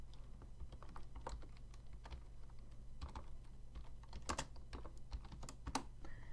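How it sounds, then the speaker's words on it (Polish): Keys clatter on a computer keyboard as a mod name is typed, irregular light clicks in short bursts over a low steady hum, quiet and close. "później wpisujemy sobie nazwę moda"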